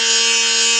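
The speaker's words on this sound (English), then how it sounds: "whirring, but it will drill right through this material" A small Drill Master plug-in electric drill from Harbor Freight whirs in a steady, high, even whine, close and loud for just under a second.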